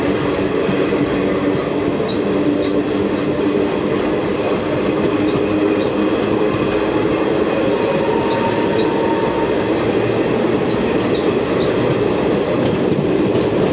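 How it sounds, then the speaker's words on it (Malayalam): The Pune–Kanyakumari Express rolls by up close, a loud, continuous rumble of wheels and carriages with rhythmic clatter and a faint high squeal, holding steady throughout. "ഇത് പുणे കന്യാകുമാരി എക്സ്പ്രസ് ആണ്."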